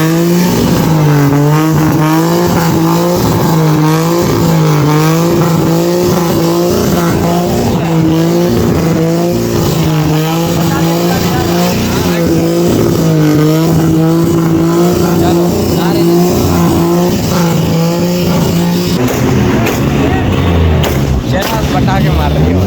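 A modified car at a Hyderabad, Sindh car meet revs hard, its engine drone rising and falling continuously at close range, with a burst of crackling exhaust near the end and voices mixed in.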